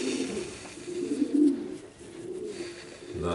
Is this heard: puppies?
no